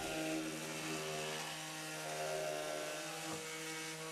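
A Proxxon OZI/E oscillating power sander with a die-cast zinc head runs continuously with a steady, high-pitched motor whine and buzzing hum that holds constant throughout.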